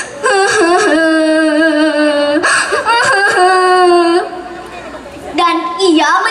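A child performer imitates crying during a school folk tale stage performance of Tau Tudu, with a high whimpering, wailing voice in several drawn-out sobs and a brief break before the crying resumes.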